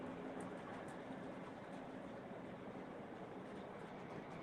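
A Lionel model train running on its track, a steady close rumbling roll with faint clicking, continuous and unbroken, with no voices.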